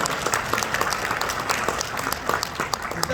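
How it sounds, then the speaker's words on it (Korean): An audience at a political youth rally bursts into sustained applause, a dense, even wash of many hands clapping at once throughout. "여러분 90년대생들에게 박수 한번 보내주십시오."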